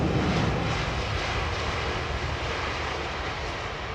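A steady, loud roar from an airliner arriving on runway 27R, sustained for the whole stretch as a broad engine rumble, with no voices over it.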